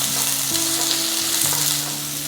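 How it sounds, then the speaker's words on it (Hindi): Tindora (kunduri) stir-fries in a pan with a loud, continuous sizzle as a spatula scrapes and stirs, while a steady tonal hum runs underneath. "अब हम इसमें डालेंगे कुंदूरी और इसको इसमें स्टर कर लेंगे।"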